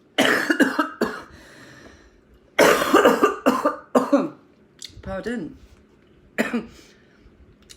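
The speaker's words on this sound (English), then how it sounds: "That would be a weed cough" A person coughs hard in several harsh, raspy bursts with gasping breaths between, close up, and briefly says a word amid the fits.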